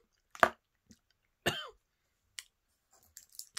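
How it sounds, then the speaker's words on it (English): A sharp cough, followed by a second harsher cough with a throaty rasp, then a few faint clicks and small mouth sounds in a quiet room. "something that was a bit sour made me cough"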